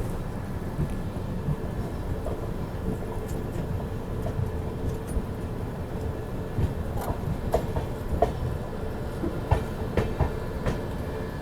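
The 22539 Mau - ANVT SF Express passenger train runs at night, a continuous low rumble of rolling wheels with scattered rail clicks and knocks, steady and fairly close, with no speech.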